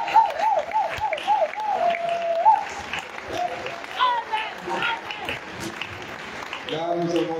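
A church congregation applauds and cheers, with steady clapping and voices, while a preacher talks and a singing voice rises over the crowd.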